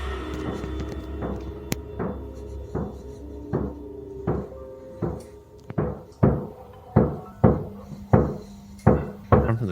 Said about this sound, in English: this was soon followed by a loud aggressive knock coming from the kitchen